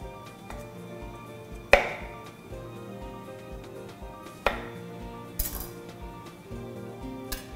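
Occasional sharp knocks of a knife against a cutting board while cutting cucumbers into long strips, a few separate hits spaced seconds apart, quiet and close, with no speech.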